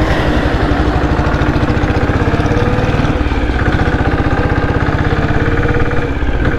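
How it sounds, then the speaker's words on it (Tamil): A 1997 diesel Bullet motorcycle idles with a loud, close exhaust, a fast even thumping pulse that holds steady throughout. "வண்டியோட இன்ஜின் நாய்ஸ் இல்லைங்க, எக்ஸாஸ்ட் நாய்ஸாக சவுண்டு வருது."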